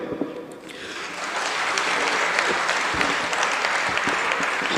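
A crowd claps together in steady, sustained applause, building after a brief start and staying loud and even until the end.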